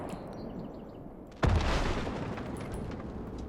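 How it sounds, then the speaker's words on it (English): A single deep artillery boom from a Soviet beach-assault battle near Seattle in a war strategy video game, sudden and heavy, followed by a lingering low rumble over quiet background noise. "But that artillery back there, as you can tell, is stopping anything that gets out in the open."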